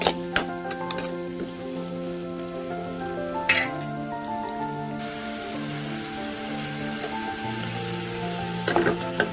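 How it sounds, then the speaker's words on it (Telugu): Steady loud sizzling of green chilies, onions and ginger frying in hot tempering oil, with a couple of sharp scraping stirs of a ladle and a faint hum throughout. "పచ్చిమిరపకాయలు, ఉల్లిగడ్డ బాగా వేగాలండి తాలింపులో."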